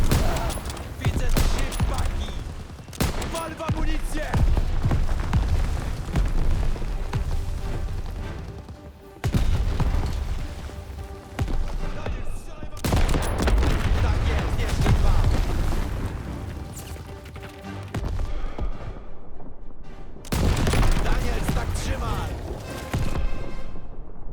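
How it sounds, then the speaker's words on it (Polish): Sniper rifle shots and heavy explosions shatter crates in Call of Duty: WWII during a wartime battle, with loud booming blasts and gunfire rolling nearly continuously over dense battlefield noise and voices. "podnieś karabin z lunetą i rozwal te paki"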